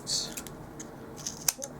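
Scissors snip paper while a handmade card is being crafted, giving a few quick, close, crisp cuts scattered across a short quiet stretch.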